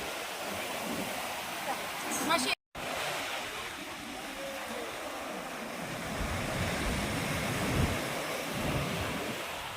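Sea waves wash and roll continuously at a famous beach, a broad, steady surf roar with wind buffeting the microphone and a brief dropout early on; a voice is faintly present under the surf.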